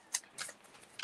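Oracle cards laid down one after another on a table in a quiet room: a few soft, brief papery slaps and shuffles, close and faint, with no voices.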